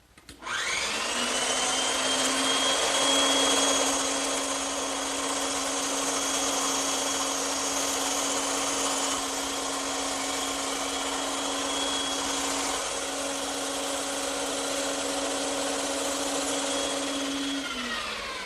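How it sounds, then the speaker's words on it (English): A bandsaw runs steadily as it cuts a freehand decorative arch in a wooden corner cupboard piece, a loud continuous whine and whir that spins up quickly and winds down at the end. "this is where the bandsaw really comes in handy"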